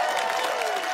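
Studio audience applause on a comedy panel show, a brief, even burst of many hands clapping, moderately loud, with a voice faintly present over it.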